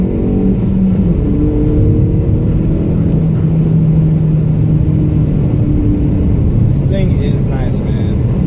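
Hyundai Veloster Turbo Rally Edition accelerates downhill, heard from inside the cabin as a loud, steady engine roar and road rumble with a rising tone, then brief higher sounds near the end.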